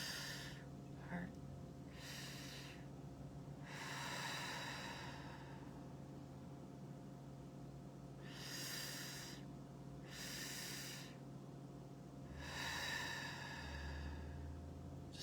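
Slow, deep breaths drawn in and released through the nose in long, separate waves, close and soft, against a quiet steady background hum.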